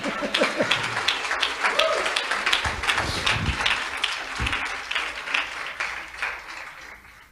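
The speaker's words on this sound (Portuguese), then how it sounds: "Dê um aplauso a ti mesmo." Audience applause at a Portuguese-language sermon on faith, a dense patter of claps that swells early and slowly fades, with some voices and taps mixed in.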